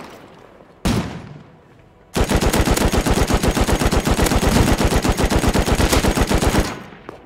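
LMG fire in the survival game Rust: one sharp shot, a short gap, then a long sustained burst of rapid, evenly spaced rounds lasting about four seconds, loud and close.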